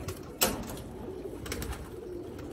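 Pigeons coo softly on a rooftop loft, low murmuring calls mixed with a few sharp clatters and taps, fairly quiet and close.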